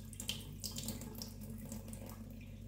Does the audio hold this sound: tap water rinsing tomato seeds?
yes